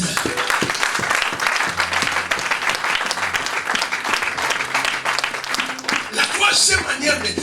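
A church congregation breaks into sustained applause, dense and loud throughout, with voices mixed into the clapping.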